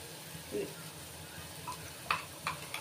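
Softened onion is stirred in hot oil while making matar masala, giving a low steady sizzle with a few soft scrapes and clicks of a spoon against the pan.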